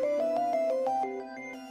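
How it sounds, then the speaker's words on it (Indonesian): A mobile phone ringtone plays a bright electronic melody of stepping tones, loud, close and alone, with no talking over it. "Masa suara handphone tunangan sendiri gak tahu?"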